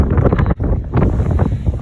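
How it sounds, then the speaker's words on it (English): Strong wind buffets a microphone on an outdoor trail, loud, continuous gusty rumble with a brief dip midway. "As you can hear, it's very windy."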